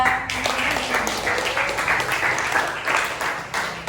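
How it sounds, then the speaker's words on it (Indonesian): Classroom applause for group 3 in a ninth-grade physics lesson, a lively patter of students clapping in a somewhat uneven rhythm, with a voice briefly audible near the start and some chatter mixed in. "Beri tepuk tangan untuk kelompok 3."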